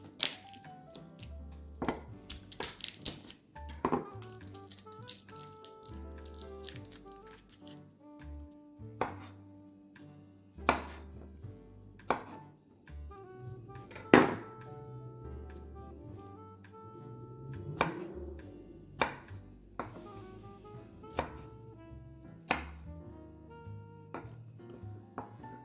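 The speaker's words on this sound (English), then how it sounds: "Go ahead and mince a couple cloves with this." A knife mincing a couple of garlic cloves on a cutting board, with sharp, irregular chopping taps spaced through a quiet stretch, some in quick clusters and others seconds apart.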